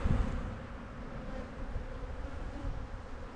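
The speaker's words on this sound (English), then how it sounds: "This one's got a large number of bees on it." Honey bees crowded on a frame of heavy brood comb from a nuc hum in a soft, steady, close buzz that holds throughout without a break.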